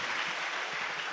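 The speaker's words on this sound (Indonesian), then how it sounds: "Tepuk tangan buat beliau." Brief, soft applause from a seated audience at a talk, a steady patter of hands heard alone at a modest distance.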